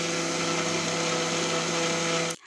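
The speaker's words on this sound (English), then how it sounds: "the granulated sugar I'm going to be processing into icing sugar. All that is needed is to blend." A kitchen blender whirs steadily, grinding granulated sugar into fine icing sugar in one loud, continuous run before cutting off abruptly near the end.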